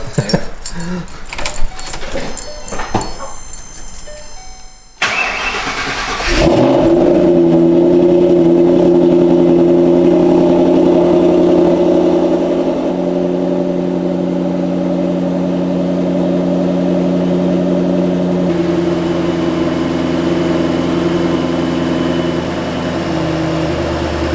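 An old muscle car engine, not started in a while, cranks over and catches, then settles into a steady, loud idle that drones on with a slight drop in level partway through.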